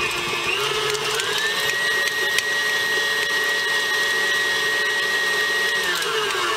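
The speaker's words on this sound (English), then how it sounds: "I'm just going to kind of whiz it just a little bit" An electric mixer whirs through softened butter for a fruitcake pie topping, a steady high motor whine held for several seconds with a slight speed change toward the end, close and alone.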